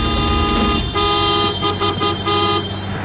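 A car horn blares in a long, loud, steady honk for about three seconds, with a brief dip partway through and no voices over it.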